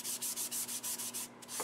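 Steady rhythmic sanding of a turned wood bowl with sandpaper, repeated back-and-forth strokes close up, a brief pause near the end.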